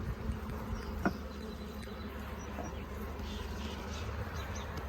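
Honeybees buzzing around an opened hive, a faint steady drone close by with a few soft knocks and rustles, no talking.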